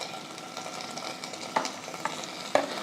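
Paneer fries in hot oil with a steady soft sizzle and a few sharper pops and stirring clicks, close and fairly quiet, with no talking.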